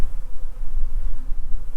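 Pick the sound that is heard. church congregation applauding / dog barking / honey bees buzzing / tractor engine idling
honey bees buzzing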